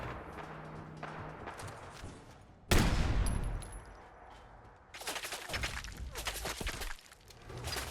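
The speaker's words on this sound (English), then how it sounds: "somebody's shooting me" Gunfire from the video game Fallout 4 breaks out partway through as a sudden loud blast, then comes back in rough bursts over continuous game background noise, with no talk.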